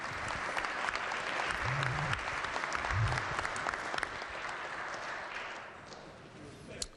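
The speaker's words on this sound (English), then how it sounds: "If everybody could give Izzy a round of applause." Members in the West Virginia House of Delegates chamber give a guest a steady round of applause that fills the room and then tapers off toward the end, with brief murmured voices mixed in.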